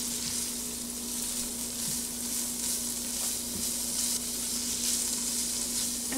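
Pancetta, an Italian pork-belly bacon, sizzles steadily in a Ninja Foodi, a continuous close frying hiss with small crackles and a faint constant appliance hum beneath.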